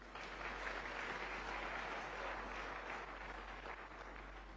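Church audience applauding newcomers, steady continuous clapping from a crowd, fairly faint and distant, lasting a few seconds.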